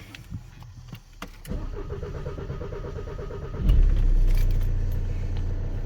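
Keys jangle briefly before a 2.0 TDI diesel Audi Q3 Quattro cranks over and starts after a home service, the engine catching and settling into a steady idle close by.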